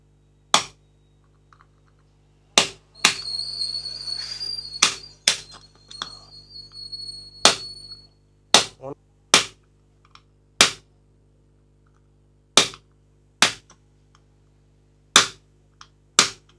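Sharp metallic hammer strikes knock rivets out of a motorcycle clutch housing, a dozen or so single loud taps spaced irregularly, with a brief stretch of grinding or scraping in between.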